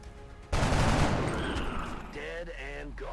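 A burst of soldier gunfire in XCOM: Enemy Unknown, a sharp loud crack rolling into a rapid rattling fusillade, followed by a fading echo with a faint voice underneath.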